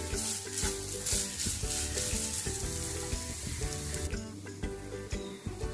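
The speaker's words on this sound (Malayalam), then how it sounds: "തീ വളരെ സിമ്മിലാക്കിയിട്ട് വേണം നമുക്കിത് വറുത്തെടുക്കാനായിട്ട്" Continuous crackling sizzle of grated coconut frying on a very low flame in a pan, close up, with occasional scraping of stirring.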